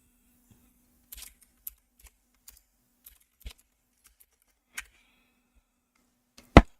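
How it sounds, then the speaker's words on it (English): Sparse, isolated keystrokes on a computer keyboard, a few quiet clicks spaced irregularly with a sharper final tap, alone in a near-silent room. "I'm busy typing nothing."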